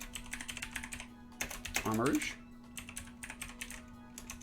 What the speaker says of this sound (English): Sorry, I suck at typing.